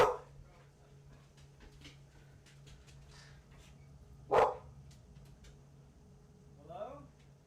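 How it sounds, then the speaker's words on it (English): A dog barks at the door, one sharp close bark and a yip, with a fainter bark near the end, over a steady low room hum and occasional soft sounds. "Dogs are barking at the door."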